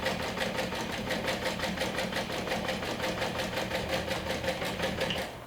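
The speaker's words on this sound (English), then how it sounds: "I'm just stitching along the top." A sewing machine stitches along the top edge of accent vinyl, its needle pounding in a fast, even rhythm that stays loud and close for the whole stretch before easing slightly at the end.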